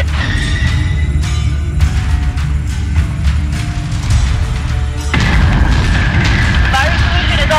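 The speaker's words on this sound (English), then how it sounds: "Firing on target." Ship weapons in Battlestar Galactica fire on a target as a steady heavy barrage of booms and rumbling blasts, loud and continuous, with voices speaking over the din.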